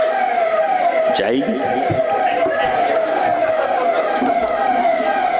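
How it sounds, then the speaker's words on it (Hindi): A police car's siren wails with a steady, falling tone as it passes outside, heard continuously beneath someone speaking in front of a crowd. "पुलिस की गाड़ी जा रही है,"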